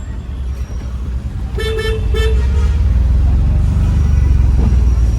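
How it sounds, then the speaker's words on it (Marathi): Heavy road traffic rumbles steadily and loudly, while a car horn gives a short burst of toots near the start above the continuous engine and tyre noise. "आता ट्रॅफिक भरपूर आहे"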